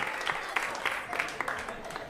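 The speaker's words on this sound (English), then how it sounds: "A round of applause." Comedy club audience applauding during a stand-up set, a steady bed of clapping from the crowd with a few louder bursts, moderately loud and sustained throughout.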